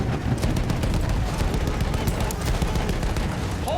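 Dense, continuous gunfire and explosions from German machine gun positions in a wartime video game battle, a loud unbroken barrage of rapid shots and booms with no clear gaps.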